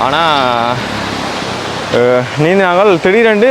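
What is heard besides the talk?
waterfall, falling water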